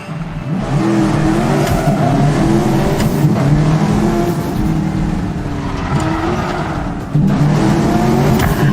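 Car engine revving loudly and steadily in the Medal of Honor Warfighter video game, a continuous close throaty drone that rises and falls in pitch, with no speech over it.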